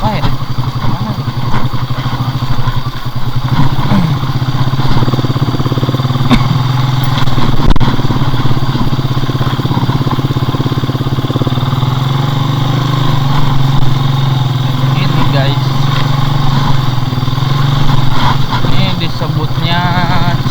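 Motorcycle ridden at an easy pace along a forest road near the Cikotok mining area: a steady, loud engine drone running throughout, with someone talking over it.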